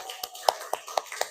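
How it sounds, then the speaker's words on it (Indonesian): A handful of sharp, separate hand claps in a classroom, about five crisp hits spaced roughly a quarter second apart, close and clear with a faint voice in the background. "Tepuk tangan."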